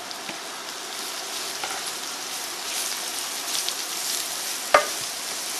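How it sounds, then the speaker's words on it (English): Sliced baby Bella mushrooms sauté in melted butter in a pan with a soft, steady sizzle and faint crackle, and a single sharp utensil tap near the end. "So we're going to keep sauteing these mushrooms for about 3 minutes."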